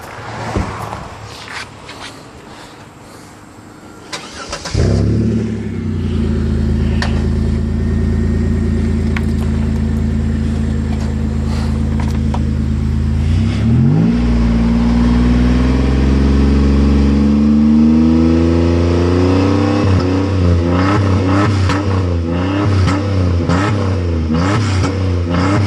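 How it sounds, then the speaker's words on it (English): A 3.5-litre dual overhead cam V6 in an Oldsmobile Intrigue, fitted with a cutoff exhaust, starts up loud and close, then settles into a steady idle before rising and falling through several hard revs with no talking. "Has a cutoff exhaust. See how she sounds."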